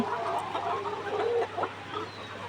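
A laying hen that began laying at 135 days clucks close by at a nest box, giving a run of short, throaty clucks with a few brief rising calls and no talk over them.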